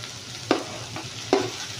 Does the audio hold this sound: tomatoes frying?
yes